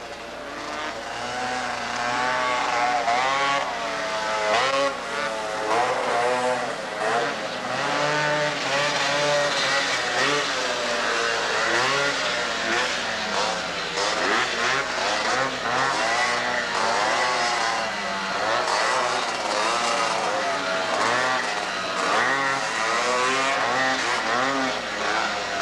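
Off-road racing vehicles at a 1986 Washington ORV national race run a dirt track, engines roaring loud and continuous, revving up and down as they pass, with no pauses throughout.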